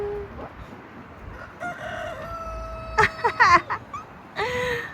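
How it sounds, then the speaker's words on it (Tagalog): A rooster crows a few times in Gyeongju, South Korea, in spring, with other chicken calls around it and quiet background noise. "Hala, may tumitilaok."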